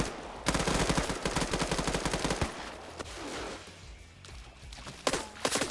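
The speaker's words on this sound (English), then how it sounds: "He's taking fire from Fonz." Rapid automatic gunfire crackles in dense bursts during an Arma PvP match at a nuclear facility, with sustained volleys through the first half, a lull, then more sharp shots near the end.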